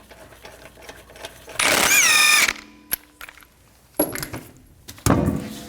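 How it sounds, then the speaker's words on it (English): A wheel lock on a 2004-2010 Toyota Sienna is loosened with a 21mm socket, giving a loud burst of ratcheting and metallic clicks followed by sharp clanks and rattles, close up, with no speech. "loosen up the wheel lock first while you're on the ground"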